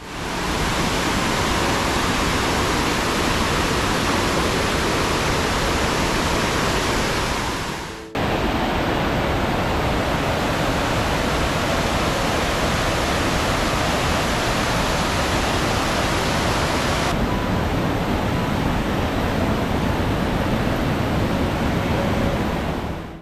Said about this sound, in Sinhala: ගඟකින් එන වතුර පාරක් ගල් තලාවක් උඩින් ගලාගෙන ගිහින් තමයි මේ දිය ඇල්ල හැදිලා තියෙන්නේ